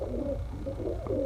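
Sialkoti pigeons, a cross-bred bird from Fakir Gul and Batera stock, coo softly nearby in a short run of repeated low throaty calls over faint background noise.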